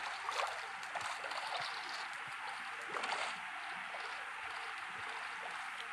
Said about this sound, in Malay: Ya, gelongsor air lah.